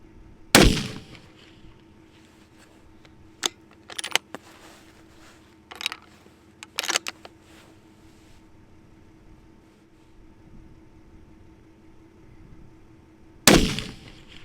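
Three loud, sharp rifle reports from a .300 WSM firing H4350 handloads with 215-grain Berger bullets, spaced several seconds apart at roughly 0.6, 6.9 and 13.6 seconds, with smaller clicks and bolt handling in between.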